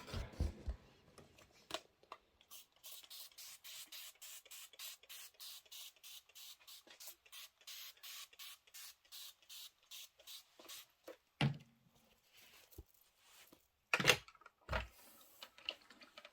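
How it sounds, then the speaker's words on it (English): Short bursts of spray from a can hiss across muslin fabric pieces in a quick regular rhythm, each puff close and faint, with a few louder knocks near the end. "let's go ahead and give this all a good shot of spray"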